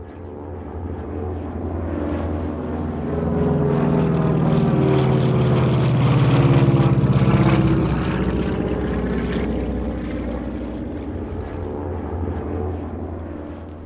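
A propeller airplane passes overhead with a steady engine drone that swells as it nears, peaks in the middle and fades slowly as it moves away.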